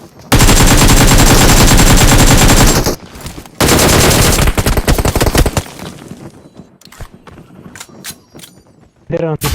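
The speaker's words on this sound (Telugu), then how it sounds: "గ్యాస్ స్టేషన్ పైన MG3 దింపేస్తున్నాడు." Loud sustained bursts of MG3 machine gun fire in a battle-royale shooter game, two long continuous volleys followed by scattered shorter shots and gunfire fading into sparser bursts.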